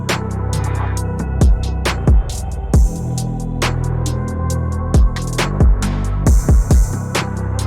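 A dark, bouncy trap drum loop built in FL Studio, with booming kicks, snappy snares, an open hat, scraping and clicky percussion and a metallic impact, plays loud and steady in a syncopated pattern.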